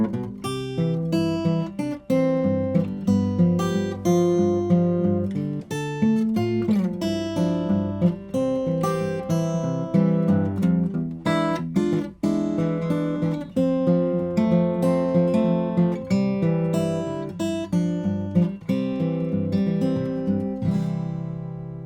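Fingerstyle acoustic guitar plays a classic folk tune, an alternating thumb bass under a plucked melody, close and clear with no voices.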